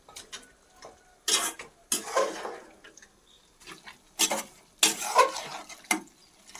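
Mutton fry gravy stirred in a pan with a spatula, producing irregular bursts of close scraping and clattering strokes separated by short quiet pauses.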